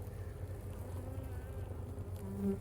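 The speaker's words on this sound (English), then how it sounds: "Bees, oh, they're coming out immediately." Honey bees buzzing as they pour out of a nucleus hive box, a faint, continuous droning hum with a few closer wingbeats passing near.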